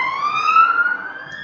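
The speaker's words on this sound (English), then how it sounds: "Sorry about the siren." A siren wails steadily in the distance, its pitch gliding slowly upward, fairly clear against a quiet background.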